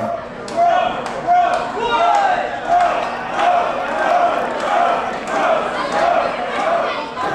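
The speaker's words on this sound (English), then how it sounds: "you hear that crowd start with the bro chant before you come out" A large wrestling crowd chants "bro" in a repeated rhythmic cadence, loud and echoing as in an arena, with each shout rising and falling.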